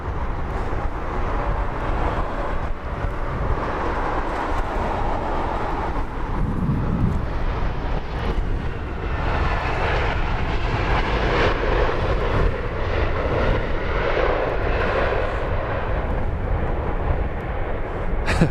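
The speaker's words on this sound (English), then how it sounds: "She is on a very wobbly, windy, long-range shot, just dropping the landing gear now." An Airbus A380 lands at London Heathrow Airport in windy early-morning conditions with its landing gear lowered. Its jet engines give a loud, continuous broadband roar that holds steady throughout, with no talking.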